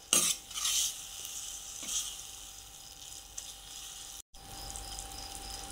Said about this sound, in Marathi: आता आपण टाकूया भाजी, आपण मिक्स करून घेऊया